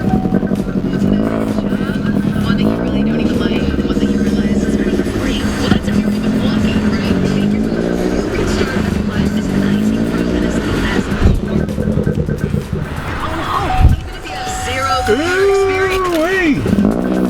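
A turbocharged Chevy Cruze 1.8L engine with an eBay turbo fires up and revs, its rising and falling engine tones loud and close, then dipping and revving again as the car pulls away, with a person talking over it.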